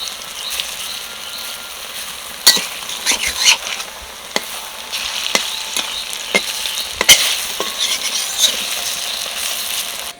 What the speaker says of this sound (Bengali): এবার ডুবো তেলে ভেজে নেবো